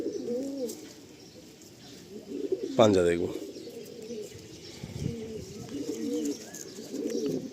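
Pigeons for sale in Metiabruz coo in low, rolling phrases at the start and again later while being handled, with people talking throughout.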